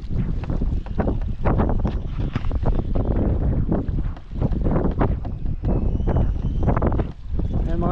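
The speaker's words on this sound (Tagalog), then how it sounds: "Ang hangin mga idol." Strong wind buffets the microphone in loud, continuous gusty rumbles that fill the whole stretch, with faint voices barely showing through.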